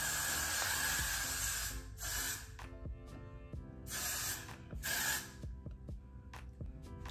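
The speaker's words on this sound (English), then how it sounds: "I'm gonna spray it with Got To Be glue spray" Got To Be glue spray is sprayed onto hair tied under a scarf, several bursts of hissing aerosol at close range, each lasting about a second with short pauses between.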